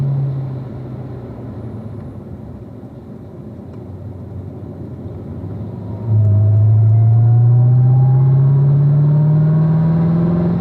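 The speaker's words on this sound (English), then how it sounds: "there's going to be 3 cars passing you" Race cars sweep past one after another on a road course, their engines droning loud and close, with a deep rising roar swelling sharply about midway as a car closes in and holds near.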